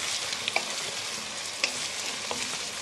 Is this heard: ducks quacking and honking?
no